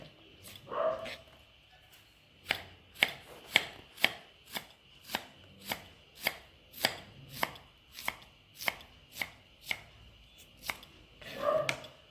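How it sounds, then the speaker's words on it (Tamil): Rapid, even knife chops through coriander on a cutting board, about a dozen crisp strikes in steady rhythm, with a few louder clattering sounds at the start and end. "நெருசாக நறுக்காச்சு கொத்தமல்லி தலை"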